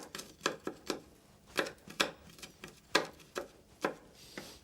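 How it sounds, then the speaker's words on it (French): Knife chops garlic on a board in a steady series of close, crisp taps, about a dozen in quick rhythm with short gaps, while garlic is prepared for a venison escalope with mushrooms. "quand vous avez haché votre ail"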